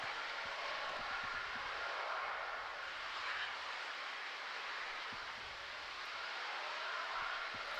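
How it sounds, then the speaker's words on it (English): Raptor engines of a Starship Super Heavy rocket roar during ascent as a steady, far-off, broadband rumble that holds constant with no voices. "All 333 Raptor engines have ignited at this point."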